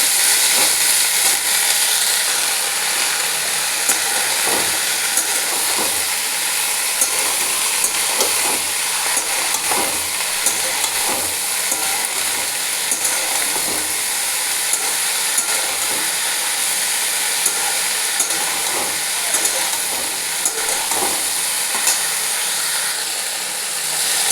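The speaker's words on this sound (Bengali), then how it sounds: "খুব ভালো করে এগুলো ভাজবো" Vegetables for a plain vegetarian curry fry in a pan with a steady, loud sizzle and hiss, broken by occasional stirring scrapes, running on alone without talk.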